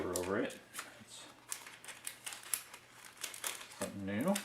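Paper taped over a decal sheet rustling and crinkling close by in irregular bursts, with someone talking at the start and end.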